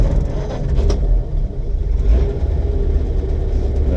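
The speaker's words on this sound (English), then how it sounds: "Starts easily, switch on." A 1937 Ford V8 convertible sedan engine running on a cold day, a steady low rumble close by with a slightly raised idle and no talk.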